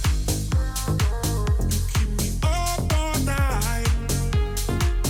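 Electronic dance track with punchy kick drums on a steady beat, bass and bright synth chords and melodic stabs, full and loud throughout with no voices.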